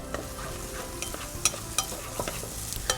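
Vegetables sweating in a pan for a Tuscan duck dish, a steady soft sizzle with scattered sharp clicks and scrapes of stirring, close and continuous, with no talking.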